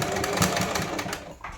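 A sewing machine stitches double-folded fabric for a child's lehenga choli, its motor whirring steadily at close range before easing slightly near the end.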